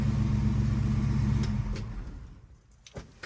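A 1966 Chevrolet Chevelle SS engine idles with a steady low rumble, then fades out as the car is switched off, leaving a few faint clicks.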